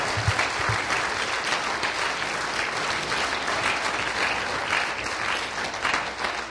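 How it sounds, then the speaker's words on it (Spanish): Sustained applause from a church congregation during a Spanish-language sermon, steady and dense throughout, with no voices standing out above the clapping. "¿Puede darle un aplauso de alabanza a Él?"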